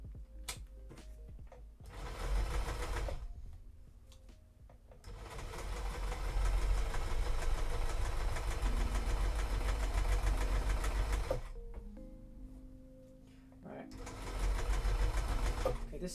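A domestic sewing machine runs a seam in two long stretches of steady whirring stitching with a pause between, then starts again near the end. A voice talks quietly over parts of it.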